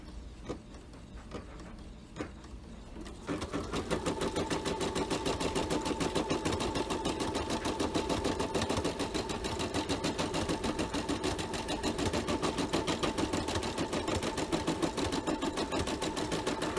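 A Brother embroidery machine sews a regular running stitch, starting after a few quiet seconds with light taps, then settling into a loud, steady, rapid mechanical hum and needle rhythm that carries on alone to the end.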